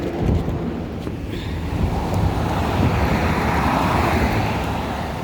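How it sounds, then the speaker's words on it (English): Strong wind gusting outdoors around trees on a daily walk, a steady loud broadband roar with constant buffeting and rumble across the whole stretch, no voices over it. "It is so windy out here today."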